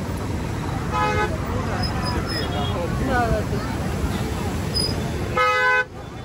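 Traffic jam near Khadakwasla Dam in Pune during heavy rain, with car horns honking in short stacked bursts near the start and a longer blast near the end over a steady bed of crowd chatter and road noise.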